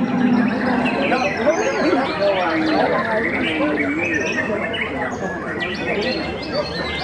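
Many songbirds chirp and warble at once in a dense chorus at a bird-singing contest, layered over a busy crowd murmur and voices talking nearby.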